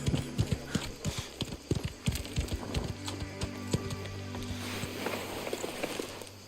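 A horse walks with steady clip-clopping hooves near stables in the video game Mafia: The Old Country, close and clear at first, then fading into a low background hum.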